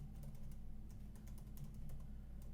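Typing on a MacBook Air M1 keyboard, soft flat key taps in an irregular quick rhythm, close but quiet over a low background hum.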